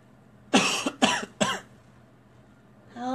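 Three sharp coughs in quick succession from a person nearby in a quiet indoor room, followed by a brief pause and the start of speech.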